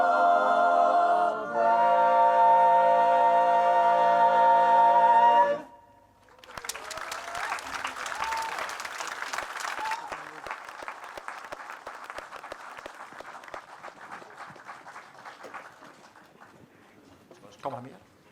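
After a sustained choir chord at Rebild Festen ends, an outdoor crowd breaks into applause that starts strong and gradually thins out, fading toward the end.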